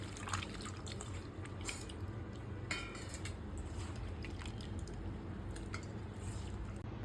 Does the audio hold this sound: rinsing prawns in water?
yes